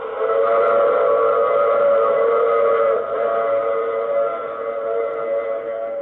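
A steam train whistle in an old radio drama blows a long, steady, loud chord, sounding alone without any talk for about six seconds.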